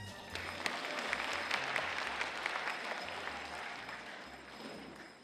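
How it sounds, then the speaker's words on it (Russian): Steady applause from a concert audience at a Mordovian philharmonic evening, dense clapping filling the hall without pause, moderately loud and continuous throughout. "Ваши аплодисменты"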